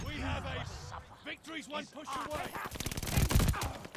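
A light machine gun fires in Call of Duty Vanguard in rapid, punchy bursts that build toward the end, heard under someone talking over the first half.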